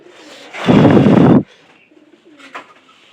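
A Pyara pigeon suffering from a cold, heard close by as a loud rough burst lasting under a second, then fainter soft coos and calls in a quiet room.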